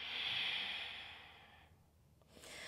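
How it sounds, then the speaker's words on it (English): A slow, soft inhale during an evening yoga flow, heard close up as a breathy hiss that fades out, followed by a brief pause and the start of another breath. "Breathing in."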